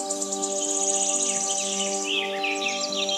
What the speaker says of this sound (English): Hornbill.